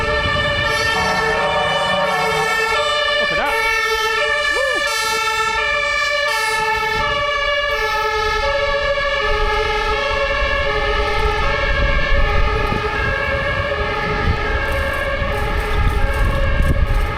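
A new fire engine's siren wails loud and close on a street in Berlin's Mitte district, its steady two-tone pattern sustained throughout over heavy traffic rumble, with no talking.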